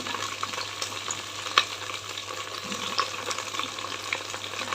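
Okra frying in a pan with masala for a spicy Andhra-style curry, a steady close sizzle with soft stirring scrapes and a couple of brief clinks, no voices.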